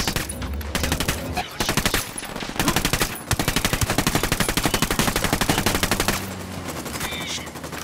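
Heavy automatic gunfire in the video game Ghost Recon Wildlands: loud, rapid bursts of machine-gun fire overlap almost continuously, broken by a few short pauses and sharper single shots.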